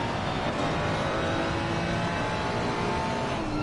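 Ferrari 500 racing car engine at Spa, heard in a sim-racing broadcast, a steady droning engine tone running evenly throughout with no breaks.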